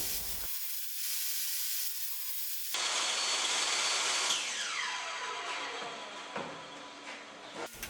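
A power saw rides on a sliding sled, cutting an angle across a wooden furniture leg clamped against a stop; a loud, steady whine and rasp follows a short lull, close up and uninterrupted.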